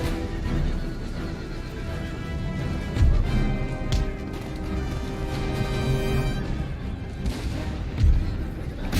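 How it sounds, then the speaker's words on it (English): Booming cannon fire from a battle in the video game Empire: Total War, with sharp thuds rising out of a dense, continuous din of fighting, horses and gunfire. "what a cannon shot!"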